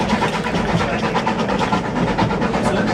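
A train rolls along steadily with a dense, rhythmic rumble and clatter, moderately loud and continuous over three seconds, with no voices.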